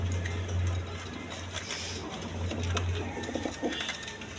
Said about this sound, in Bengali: এক পেয়ার ফিল্ডবেক কবুতর আছে দেখেন